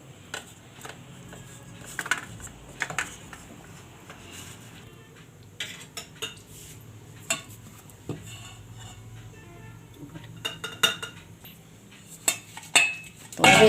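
Salt mixed by spoon into cooled vegetable momo filling in a bowl: scattered close clinks and scrapes of metal on the dish, irregular and uneven, with quieter stretches between bursts.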